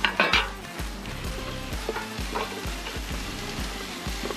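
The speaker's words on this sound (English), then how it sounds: "Right, so peppers are in. Heat them up a bit." Steady sizzling of peppers in a hot frying pan, close by, with repeated scraping and stirring knocks from a utensil against the pan.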